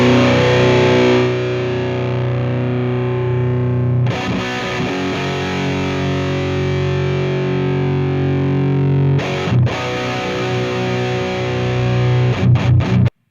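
A metal amp simulator from the Amplitube 5 Metal Collection drives a heavily distorted electric guitar, with sustained chugging chords and a squelchy, fizzy edge, loud and close, with brief pauses between riffs.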